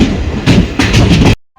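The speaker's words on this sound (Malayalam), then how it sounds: "ട്രെയിൻ ഇതാ മംഗളൂരു സെൻട്രൽ റെയിൽവേ സ്റ്റേഷനിലേക്ക് എത്തിരിക്കുകയാണ്" The Duronto Express rolls into Mangaluru Central station, a loud close rumble with rhythmic clatter of wheels over rail joints before cutting off abruptly.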